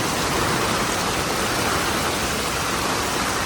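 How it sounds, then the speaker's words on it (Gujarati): Heavy rain pours down at a cow shelter in Surat during a downpour. It makes a dense, loud, unbroken hiss that holds steady throughout, with no voices. "ફૂલ વરસાદ આવી રહ્યો છે."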